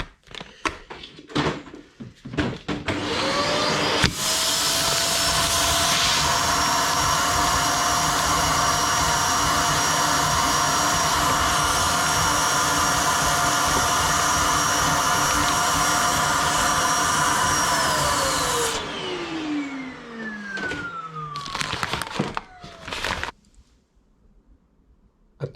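A vacuum pump running steadily for vacuum bagging a resin gauge pod, a loud continuous whine and roar that starts after a few knocks and clicks, holds evenly, then winds down with a falling pitch before near silence.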